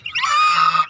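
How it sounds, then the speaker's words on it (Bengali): A single goose on a farm gives one loud, sustained nasal honk lasting under a second, close by with nothing else around it. "সাথে এই দুইটা আবার রাজহাঁস আছে"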